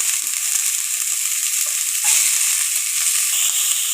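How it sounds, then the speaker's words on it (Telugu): Two thinly sliced onions hiss in the same pan used for frying meal maker, a steady bright sizzle close up with light stirring scrapes and no speech. "అదే ప్యాన్లో సన్నగా తరిగిన 2 ఉల్లిపాయలు వేస్తున్నాను"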